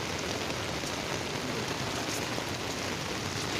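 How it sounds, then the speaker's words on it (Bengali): Heavy rain pours steadily in Kolkata, a dense, even hiss of drops hitting surfaces close by, unbroken for the whole stretch with no voices. "আমার বর বলছে কি বিপাকে পড়লাম এই বৃষ্টির মধ্যে"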